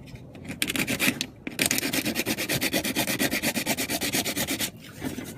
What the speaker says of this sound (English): So you just sand